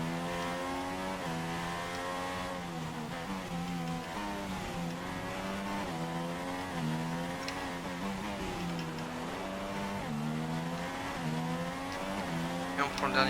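Formula One car in the F1 2016 racing game revving and climbing through gears, the engine whine rising and stepping down in repeated shifts, loud and continuous throughout with faint tire noise.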